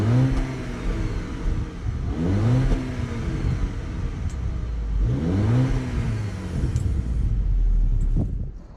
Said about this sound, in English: Let's do a quick little exhaust clip so you can hear what this model sounds like.